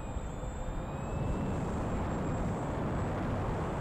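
A twin-prop model airplane flies with its right motor shut off, leaving a steady broadband drone with a faint high whine from the remaining motor, continuous and fairly close throughout.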